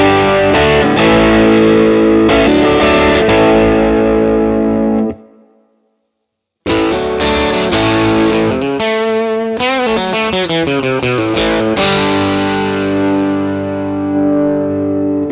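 Electric guitar played through a free amp simulator with a cabinet impulse response, a loud distorted tone strumming chords and picking lines, with a brief silent gap near the start before the playing resumes continuously.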